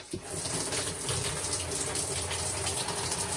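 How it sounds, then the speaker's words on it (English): Water runs from a camper shower faucet with the cold side turned fully on, a steady hissing gush at moderate loudness with no voices over it. "So I'm going to turn it on with uh, just one side of the cold or the cold all the way on"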